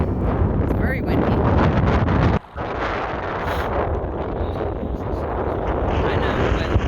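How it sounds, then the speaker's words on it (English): Strong wind at the Coral Pink Sand Dunes buffets the microphone with a loud, continuous roaring rumble, briefly dropping out for a moment before it resumes just as loud. "It's very windy."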